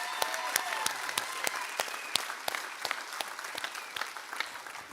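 A graduation audience for a linemen training class applauds the top student with sparse, distinct claps that ring out steadily for several seconds from a modest crowd.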